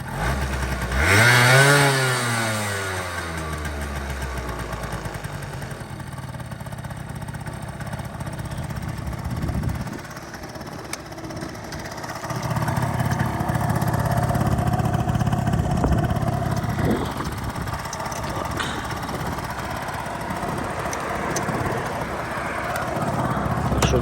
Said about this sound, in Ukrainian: В загальному гарно двигунчик працює